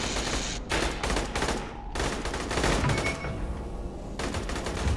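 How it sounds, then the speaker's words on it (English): Dense, continuous gunfire from Aliens: Colonial Marines on PS3 (2013), heavy overlapping bursts with a short lull, fairly loud and close, no talk over it. "They're already shooting us."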